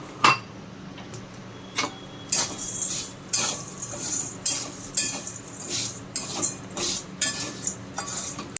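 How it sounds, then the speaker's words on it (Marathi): Edible gum is fried in a little oil in a kadhai, heard mainly as intermittent metal spoon scrapes and clinks against the pan, close and fairly quiet, with only a faint sizzle underneath. "हे दोन चमचे तेल घातले कढईमध्ये तर आता त्याच्यात हे अर्धी अर्धी करून आपण फ्राय करून घेऊया"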